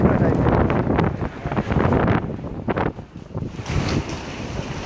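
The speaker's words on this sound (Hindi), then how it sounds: "काफ़ी हवा चल रही है, बारिश का टाइम।" Strong wind buffets the microphone outdoors near a roadside goat farm, a loud, continuous rushing roar with gusty surges and dips, and no talk over it.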